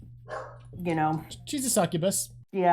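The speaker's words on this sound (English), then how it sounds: "Sorry about the dog." A dog barks several times, close by, in short sharp bursts that overlap a woman's conversational speech, with a steady low hum running underneath.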